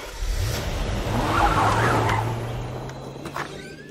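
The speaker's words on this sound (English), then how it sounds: "Bro, where do you suppose that truck is going?" A cartoon truck drives past, its engine swelling in a broad whoosh and fading away with a faint tire-squeal tone, heard alone with no voices.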